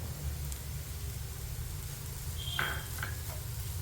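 Grated coconut sizzles steadily in a hot pan, a soft, even frying hiss with a few brief scraping stirs near the end and no one talking.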